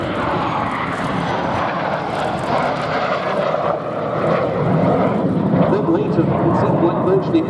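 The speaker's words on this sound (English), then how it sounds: "Jet Provost was always a superb aerobatic display mount" A Jet Provost jet flies an aerobatic display at the Duxford airshow, a loud, sustained engine roar that swells and shifts as the aircraft passes, with a commentator talking over it.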